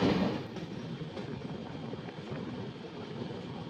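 Kirandul Express passenger train pulling into Gorapur station during the monsoon, a steady rumbling roll of railcars with faint rhythmic clatter, loudest at the start and then holding an even, continuous level.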